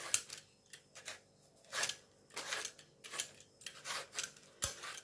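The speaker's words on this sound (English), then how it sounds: "You can use an assi or just a potato peel." A potato peeler scrapes along raw taro in a series of short, dry rasping strokes, each a quick scratchy burst with brief pauses between, close up and fairly quiet.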